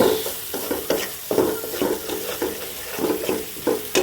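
Vegetables cook in a pan on a stovetop burner, a steady close sizzle broken by repeated scraping stirs in an uneven rhythm throughout, with no talking.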